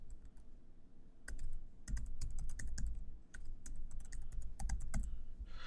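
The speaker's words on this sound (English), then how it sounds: "Type in our email address." Someone types on a computer keyboard, quick bursts of light clicking keystrokes close by over a quiet room hum, with brief pauses between runs.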